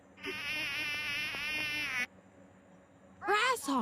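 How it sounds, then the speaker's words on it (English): A mosquito's whining buzz hums loud and close for nearly two seconds, then cuts off before a brief voice is heard. "Mosquito."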